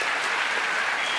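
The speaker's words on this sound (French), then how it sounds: "Applaudissements, Bon, monsieur, vache. applaudissements." Studio audience applause on a French television talk show, a brief, dense wash of clapping from the crowd, steady and even with no break.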